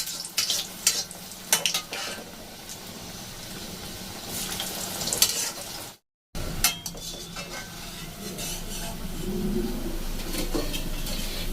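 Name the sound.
snacks frying in oil on low flame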